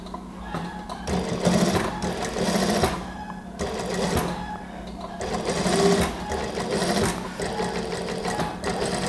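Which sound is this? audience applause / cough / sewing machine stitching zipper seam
sewing machine stitching zipper seam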